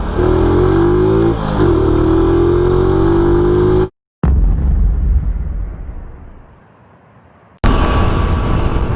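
Motorcycle engine roaring loud and close, revving hard with rising pitch through gear changes, then a sudden cut and a fading rumble before the roar returns.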